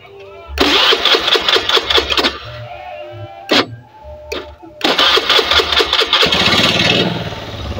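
A Honda Beat or Vario motor scooter with a vacuum carburetor, just serviced, is started: several bursts of cranking and catching, brief gaps, then the engine settles into a steady, close idle. A voice speaks briefly between the starts.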